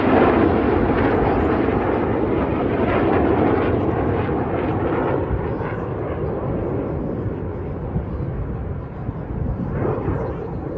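Red Arrows jet aircraft fly their display at the 2022 Danish Airshow, giving a loud, continuous broadband roar that swells and fades gradually as the jets pass over.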